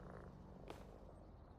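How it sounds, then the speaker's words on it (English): Squeak, a kitty in PowerWash Simulator 2, purrs in a faint, steady low rumble, with one soft brief click partway through and no voices. "We got a kitty. His name's Squeak."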